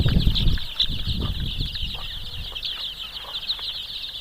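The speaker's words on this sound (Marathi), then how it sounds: "आमचा मोत्या आमचा सुधा इथं बसलेला आहे त्याच्या अंगावरती पक्षी उड्या मारत आहेत तुम्ही बघू शकता" Chickens cluck close by on a poultry farm, with a few bursts of wing flapping, over a constant high buzzing hum in the background.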